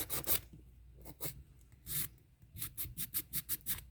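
Hand sanding of terra cotta home decor painted with folk art paint, a series of short rasping strokes, close and fairly loud, coming in quick rhythmic bursts with brief pauses between, no voices.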